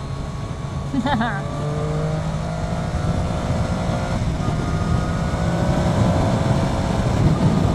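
A 2013-onwards Triumph Daytona 675 sports motorcycle under way gives a continuous, loud engine drone that climbs in pitch, with rushing wind noise.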